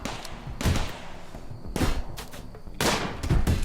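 Automated turrets in Rimworld fire at a wave of attacking beavers, with three loud bursts of rapid gunfire separated by short gaps, each a crackling volley with a heavy low thump.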